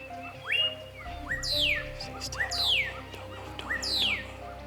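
An ocellated turkey calls repeatedly in the Yucatán, giving three bright sweeping call notes roughly a second apart, moderately close, over a steady low background hum.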